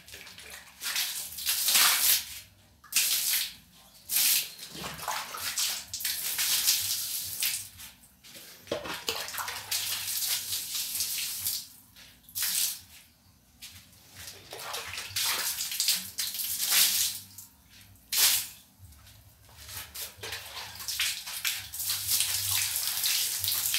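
Soapy water splashes and runs while a dog kennel is scrubbed and washed, with loud rushing pours broken by short pauses and sloshing throughout.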